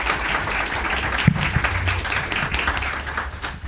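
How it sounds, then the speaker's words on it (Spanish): An audience at a Bolivian election-runoff panel discussion breaks into sustained applause, a dense, even wash of clapping that holds steady for several seconds without talk. "Un aplauso para Toribia Alero."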